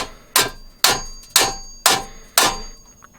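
Five sharp metallic clangs of a hammer striking another hammer held over a hole in a McIntosh MC2100 amplifier chassis, evenly spaced about half a second apart, each ringing briefly before the next blow.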